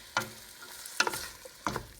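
Ground turkey fries in a pan over high heat, a quiet sizzle broken by three sharp scraping stirs of a utensil against the pan, close and without speech.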